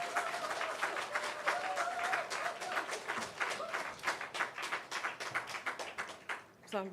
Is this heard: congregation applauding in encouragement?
yes